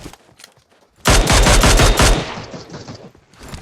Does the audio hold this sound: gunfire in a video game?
yes